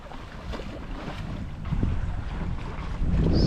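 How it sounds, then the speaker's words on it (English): A sailboat eases slowly along the open sea on the way to Antigua from Deshaies, Guadeloupe, with a steady rush of wind and water that swells louder toward the end, no voices. "Slow, easy sailing."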